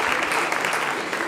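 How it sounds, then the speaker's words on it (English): Steady, dense applause from an audience fills the room at a film festival press conference for a Spanish film, continuous and fairly loud throughout. "a big round of applause for them"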